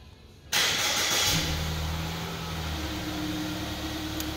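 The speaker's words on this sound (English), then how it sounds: "Vehicle starts up, runs for 15 minutes, and then will shut itself off." A 2014 Ford Escape fires up by remote start, a sudden crank at about half a second settling into a steady, close idle hum with a low engine drone continuing alone.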